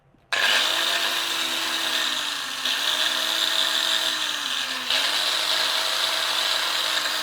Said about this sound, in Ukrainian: От включаю болгарку, демонструємо.